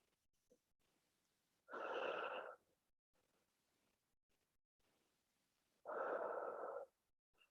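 Slow, deep breathing during a seated yoga twist: two long, soft airy breaths, each lasting about a second, separated by quiet pauses and heard close up with no talking.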